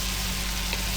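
Mushrooms and chicken frying in a pot while being stirred for a chicken fricassee, a steady close sizzle filling the whole second with no talk.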